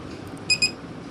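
Two quick, sharp electronic beeps sound close together from a BLDC table fan conversion kit as it pairs with its RF remote, over faint room noise.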